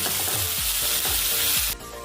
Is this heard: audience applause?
no